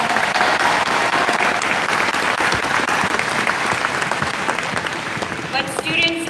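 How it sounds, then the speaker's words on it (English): Thunderous applause from a large crowd at a university graduation and commencement ceremony, a dense continuous roar of clapping that holds steady throughout and stops abruptly near the end. "A round of applause for all of your mentors and teachers."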